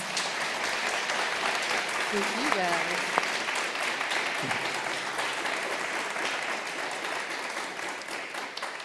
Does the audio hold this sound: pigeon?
no